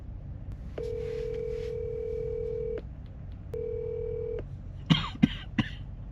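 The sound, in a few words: phone call dialing tone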